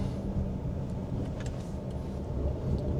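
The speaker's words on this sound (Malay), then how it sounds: "kita boleh rasa bahawa engine sedang uh, bekerja tapi bunyi dia memang macam BMW sebiji macam BMW" The 1.5 engine of a Jetour Dashing SUV drones steadily and loudly from inside the cabin, with a dense low rumble and road noise that holds constant throughout, and no voice over it.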